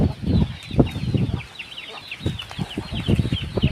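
Chickens cluck and stir on a village poultry farm, with a rooster among them, short scattered clucks and wing flutters close by with no talk.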